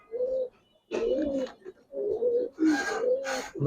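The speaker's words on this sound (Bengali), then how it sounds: "তিনটাই উড়ানো কবুতর" Flying pigeons coo close by in a loft in several soft, throaty bursts with short pauses between them.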